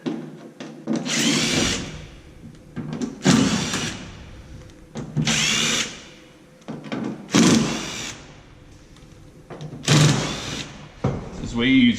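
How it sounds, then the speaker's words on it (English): Power drill backing screws out of the door of a Ford F100 truck, several short bursts of whirring spaced a few seconds apart, close and loud, with a person talking in between. "now all we have to do is just take all the screws out of the door."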